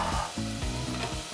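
Chopped onions frying in hot half butter, half oil, a close steady sizzle with crackling spits and the occasional stir, no one speaking.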